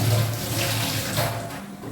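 Water runs steadily from a kitchen tap into a vessel for drinking, a close, continuous gushing that lasts under two seconds.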